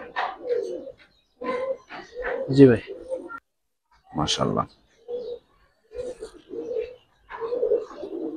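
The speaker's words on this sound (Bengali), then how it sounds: "ভাই এখন সব পেয়ার কবুতর গুলা দেখাবো" Giribaz pigeons give low cooing calls close by, mixed with someone talking intermittently throughout.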